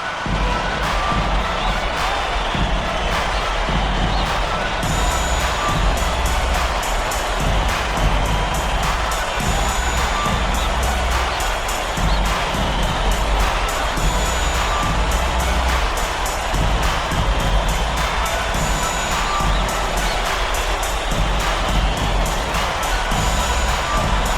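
A loud, rowdy Parisian arena crowd roars steadily throughout a basketball game in NBA 2K26, a dense unbroken wall of cheering and murmur with scattered sharper peaks.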